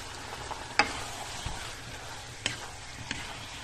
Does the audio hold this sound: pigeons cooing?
no